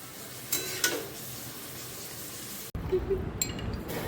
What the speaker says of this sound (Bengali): তারপর একটুকু ভাজা ভাজা হওয়া পর্যন্ত এরকম থাকবে, ভাজা হওয়া পর্যন্ত অপেক্ষা